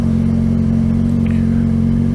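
An engine runs through an IXIL exhaust with a loud, steady, deep drone that holds an even pitch without clear revving. The sound is close and continuous, and no one speaks.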